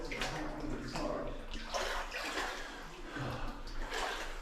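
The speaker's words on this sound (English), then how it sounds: "I'm just knee deep in water now." Someone wading knee-deep through water inside an old New Zealand gold mine tunnel, with steady churning, splashing and sloshing that echoes around them. No one speaks.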